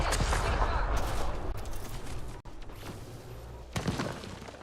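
Turret fire in the video game Mass Effect: Andromeda, a dense, loud barrage of gunfire and booming impacts that drops briefly midway and then returns with a sharp burst.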